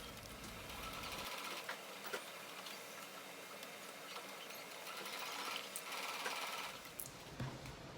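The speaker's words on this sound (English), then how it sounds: "Here I'm sewing my fabric pieces together at the handles right sides facing." Sewing machine stitching fabric pieces of a reusable shopping bag together at the handles, a steady close mechanical whir that runs for several seconds, with faint clicks at the start and end.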